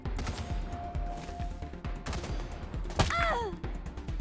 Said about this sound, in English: Whatever that gun is incredibly loud